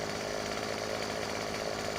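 A chainsaw in Farming Simulator 15 cuts through wood with a sustained, loud, raspy engine drone that stays even and unbroken from start to finish.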